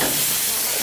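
Broth boiling beside minced meat stir-frying in a pan gives a loud, continuous hiss and sizzle, dense and close with no pause, while cooking for a mullet fish-dumpling recipe.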